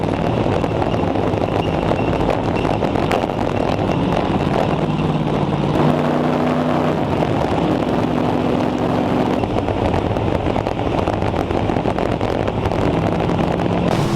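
A racing car laps the Charlotte Roval circuit, recorded from an on-board camera, with a steady loud engine drone and heavy wind rush filling the whole stretch and brief tonal shifts as the car changes speed.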